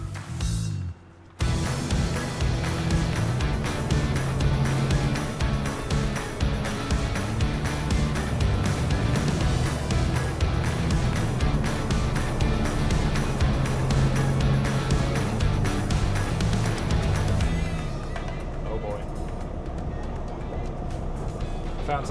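A Peterbilt 589 truck drives along with a loud, steady engine drone and road noise that holds for most of the stretch, then eases off near the end.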